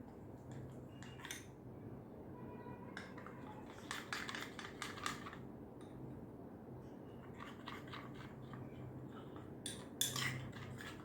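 Turmeric face pack ingredients with honey mixed in a bowl, a spoon making light scattered clinks and taps in short bursts, close but soft against a quiet room.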